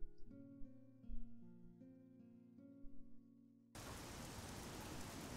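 Rain in the game Oblivion sets in suddenly after a stretch of soft music, an even, dense hiss that keeps up steadily to the end.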